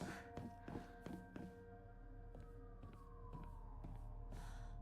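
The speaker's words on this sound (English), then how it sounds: "Sounds like a goddamn fire alarm, like a police alarm siren going on." In the horror video game Silent Hill f, a faint steady siren-like alarm tone drones and slowly falls in pitch, with sparse thuds and footsteps over a low background hum.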